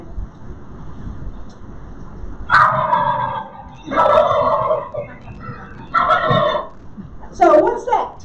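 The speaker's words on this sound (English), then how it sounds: "Those are the wild turkeys." Male wild turkeys gobbling in Boulder County, Colorado: four loud, rattling gobble bursts at fairly even intervals, close and clear over faint outdoor background.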